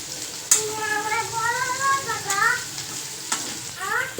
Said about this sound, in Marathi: चांगले असे कारले परतून घ्यायचे परतीत राहायचे